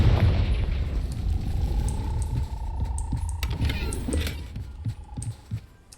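Blast spells and combat effects in the video game Hogwarts Legacy, with a loud booming explosion and crackling rumble that gradually fades into scattered clicks and tinkling debris.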